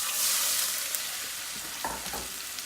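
Celery and onions frying in brown butter over medium heat, with a steady sizzle and a few soft stirring clinks and scrapes.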